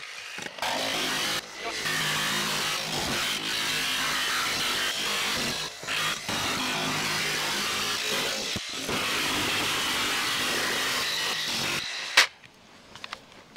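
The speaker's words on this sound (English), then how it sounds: "This is probably the worst jigsaw I've ever bought in my life." A cheap jigsaw cuts through the metal roof of a VW Crafter van for a Maxxfan Deluxe vent, giving a loud, harsh continuous buzz with brief pauses and restarts before it stops abruptly near the end.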